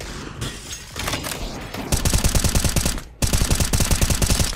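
Rapid automatic gunfire from the Counter-Strike video game, delivered in two loud sustained bursts of evenly spaced shots, preceded by scattered clattering game noise and a short gap between the volleys.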